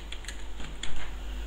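Computer keyboard being typed on while writing C++ code, a quick run of light close key clicks alone over faint hum.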